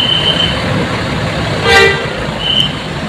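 Air-suspension R260 bus with a Jetbus 3+ Voyager body pulling out of Sunan Kudus bus terminal: a nearby engine rumble, then a single short toot of the horn partway through.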